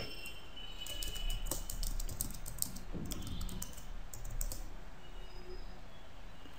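Rapid clicking of keys as a password is typed on a computer keyboard, a soft, close, irregular patter running steadily with a quiet background hiss and no talking.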